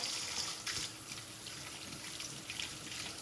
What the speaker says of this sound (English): I'm just gonna use some dish soap on this and scrub the outside.